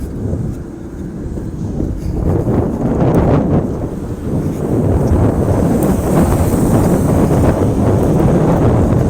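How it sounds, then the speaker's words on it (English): Steady wind buffets the microphone on a paved trail walk through Kent County, Michigan, on a hot, cloudy May day, a continuous loud rumbling roar with gusty swells and no talk. "the wind is picking up just a little bit"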